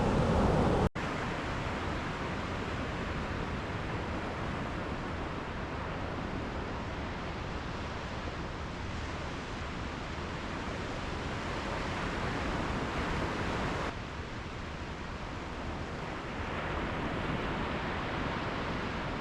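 Ocean surf on the beach at Little Talbot Island gives a steady, broad roar of breaking waves, mixed with wind buffeting the microphone and lasting the whole time with no talk.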